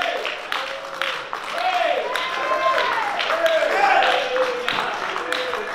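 A church congregation cheers and claps in praise, a dense, steady roar of voices and hands with louder shouts rising and falling throughout.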